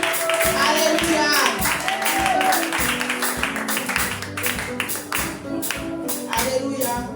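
A church congregation at a Sunday covenant service claps steadily in rhythm, loud and close, with voices calling out and music throughout.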